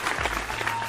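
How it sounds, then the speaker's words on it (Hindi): A crowd of audience members claps loudly together in a brief, dense burst of applause at a live show, with no talk over it. "अपनी बेबे के नाम पे एक जोरदार ताली में बजा के दिखाओ एक बार।"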